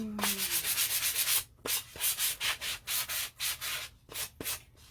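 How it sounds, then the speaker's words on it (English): Rhythmic back-and-forth scraping of a sanding block on wood, steady strokes repeating quickly, close and fairly quiet, with no talking. "I'm going to take my sanding block and just sand it down a little bit."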